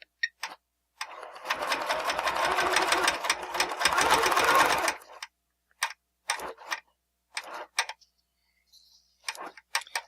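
Sewing machine stitching a quilt along a ruler: a rapid rhythmic clatter for about four seconds, then a few short bursts of stitching with pauses between.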